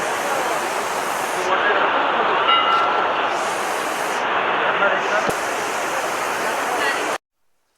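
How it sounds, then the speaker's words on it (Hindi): The Saraswati river rushes past near Mana village, a steady, loud broadband roar of flowing water heard close and continuous before cutting off abruptly. "आप यहाँ से देख सकते हो सरस्वती नदी का आगमन"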